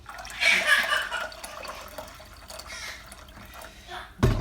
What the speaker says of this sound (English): I'm going to pour it into there. This is my hot water.